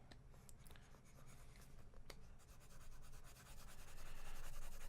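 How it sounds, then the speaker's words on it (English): An eraser rubs quickly back and forth across a pencil drawing on paper, making close, scratchy strokes in a steady rhythm that grows louder and denser toward the end, with no voices. "erase this guy real quick"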